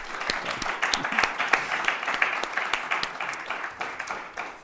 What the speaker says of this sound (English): So can we please give another round of applause for all the finalists?